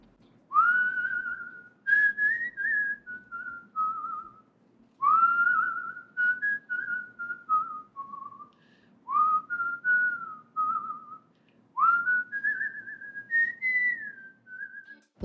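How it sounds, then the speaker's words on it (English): A woman whistles a melody solo, four clear phrases, each a rising note that slides into a gently descending line, with short pauses between them and no talking. "I can whistle like I sing."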